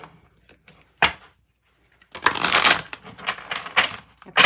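A newer tarot card deck being shuffled by hand, a few isolated card taps followed by a long burst of riffling and shuffling, close and fairly loud, with no talking.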